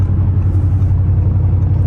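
Straight-piped 800hp Audi RS7 engine and exhaust as a steady, loud low rumble that holds continuously without a break, heard through a slightly opened sunroof.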